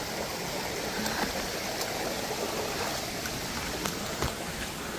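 Water rushes steadily down a stream near Aw-asen Falls in Sigay, Ilocos Sur, a loud, constant broadband flow heard close up with no talking.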